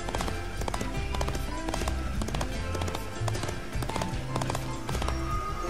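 Horses galloping in a Disney Infinity Lone Ranger horse race, a steady run of hoofbeat clip-clops beneath dense game music, continuous and fairly loud throughout.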